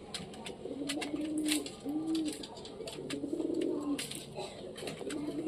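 Doves cooing nearby, a series of soft repeated low coos in rhythmic phrases over a faint outdoor background, with no talking.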